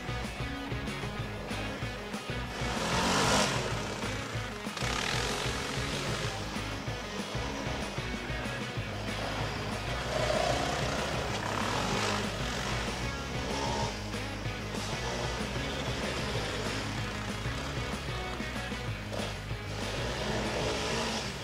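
A Yamaha Raptor 700 ATV, a single-cylinder twin-cam high-performance engine, revs while being ridden, with a loud continuous drone that swells and fades, mixed with wind noise, and no talking.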